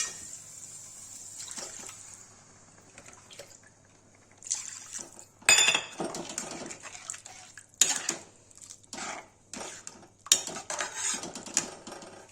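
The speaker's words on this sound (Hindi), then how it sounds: "सब पानी डाल देंगे।" Water poured into a cooking pan of tomato purée for an egg curry, splashing and sloshing in uneven bursts alongside clinks of utensils against metal, close and fairly quiet.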